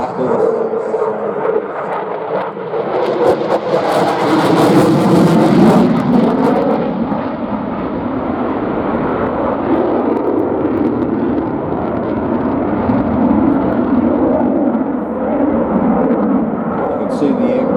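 A jet aircraft roars overhead at an air show while pulling hard, a loud broad rumble that swells early, then holds as a sustained, close drone. A commentator talks over it.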